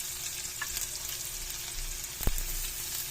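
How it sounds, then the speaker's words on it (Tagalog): Onion and garlic sautéing in a pan while making lumpia togue, a steady close sizzle and crackle of frying with one sharp clink partway through, and no talking. "Iligisa ko na dito ang aking sibuyas at saka bawang."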